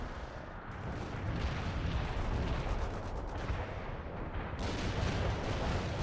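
Rumbling barrage of artillery fire in the World in Conflict war game, continuous heavy booms and crackling impacts rolling on for the whole stretch with no voices.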